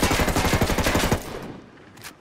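Rapid automatic gunfire aimed at a convoy vehicle in Ghost Recon Wildlands, a loud close burst of steady rattling shots lasting about a second, then fading to a quiet tail with a brief final clatter, no talk.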